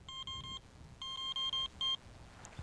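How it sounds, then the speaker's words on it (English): Quiet beeps from an electronic carp-fishing bite alarm sound in short rapid bursts, a run of three, then a cluster of quick beeps and a final single one, faint and clean. "electronic bite alarm on"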